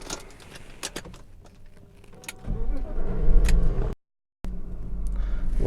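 A 1998 BMW 323i Sport fires up from inside the cabin: keys jingle and click, then the engine catches and settles into a steady low idle that continues after a short break.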